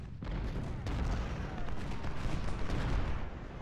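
Colt revolving rifles and carbines firing in a Civil War battle in Ultimate General: Civil War, a dense continuous rattle of overlapping musketry with booming reports.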